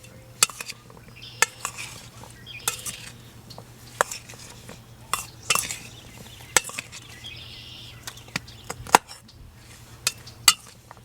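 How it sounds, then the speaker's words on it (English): Crushed cucumber and pear salad being mixed with soy sauce at a camp cooking setup, heard as a series of sharp clinks and taps of a utensil against a bowl, irregular and close, with a faint steady hum underneath. "I'm going to give that a mix."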